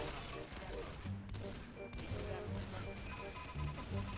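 Rapid bursts of gunfire from Team Fortress 2 played inside Roblox, with a sniper relying on a secondary weapon, rattle repeatedly under excited voices and game noise.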